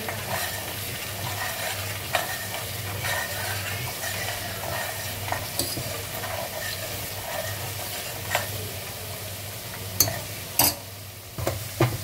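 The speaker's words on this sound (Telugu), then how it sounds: "ఒకవైపు వెల్లుల్లి పేస్ట్ అనేది ఇట్లా కలుపుతూ ఉన్నాం అన్నమాట" Garlic paste for avakai pickle sizzles steadily in a hot pan as a spoon stirs and scrapes it, with occasional sharper clinks of metal against the pan toward the end.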